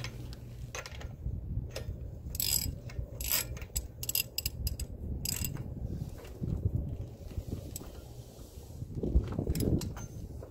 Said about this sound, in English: So next, we just got to tighten down this bolt and get it inside of there.